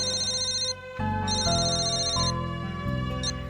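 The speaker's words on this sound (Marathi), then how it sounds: "प्रधानांचा फोन आहे." A telephone ringtone at a home in a Marathi TV drama plays as a loud, repeating electronic melody for several seconds, with no voices over it.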